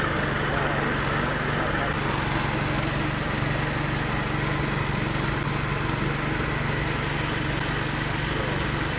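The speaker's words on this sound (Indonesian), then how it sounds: "Mesin buat pemisah antara makanan dengan ulat hongkongnya." A machine separating feed from mealworms runs steadily, a loud continuous motor drone with a buzzing mechanical hum that holds evenly throughout, no other sounds standing out.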